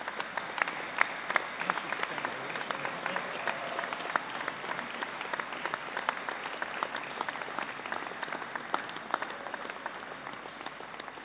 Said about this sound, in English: A round of applause for all of those sat in front of me.